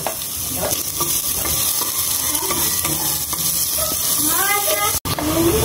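Ginger, then garlic, sizzling and being stirred in a hot pan for beef papaitan, a steady close frying hiss with scraping stir strokes throughout, a brief cut near the end.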